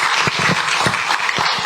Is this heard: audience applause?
yes